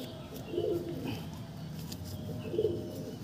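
An Andhra pigeon gives two soft, low coos about two seconds apart, close but quiet, over faint background noise.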